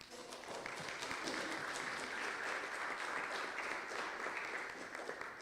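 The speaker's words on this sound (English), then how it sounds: "I'd like to have another round of applause for everybody who gave amazing talks this" An audience at a scientific workshop gives a sustained, even round of applause, heard from somewhat far off and lasting the whole moment without talk.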